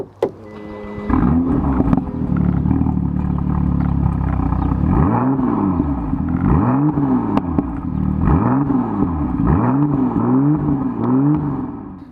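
A stock BMW M2 with the N55 engine revs repeatedly through its standard exhaust, loud and close, with rising and falling sweeps in a series of blips after a cold start.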